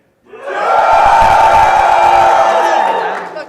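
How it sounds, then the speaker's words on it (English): Convention panel audience at PAX East cheering to cast a vote, a dense sustained crowd roar with whoops and shouts, loud and close, rising quickly and holding for about three seconds before tapering. "If you want to vote for number 3, let's hear a cheer."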